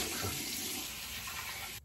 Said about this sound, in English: put a little bit more warm water on my face